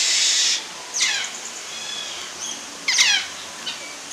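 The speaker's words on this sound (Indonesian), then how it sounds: "ini burung-burung terpenjara" Caged birds at a safari park give short, bright chirping calls in a few separate bursts, moderately close, with a steady hiss of background noise between them and no talking.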